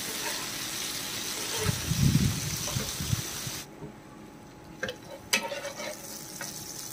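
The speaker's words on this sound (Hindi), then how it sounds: "चिकन को हमने 5 मिनट तक फ्राई किया है," Chicken frying in a pan, a close sizzle with scraping and stirring movements, a louder burst of clatter early on, then a quieter hiss broken by a few sharp utensil knocks.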